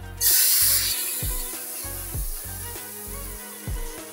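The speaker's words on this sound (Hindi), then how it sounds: "लसन का तड़का लगा" Garlic tempering for moong masoor dal hits hot oil with a loud, sudden hiss and sizzle that keeps spitting and crackling steadily, close up, while a pulsing beat runs beneath.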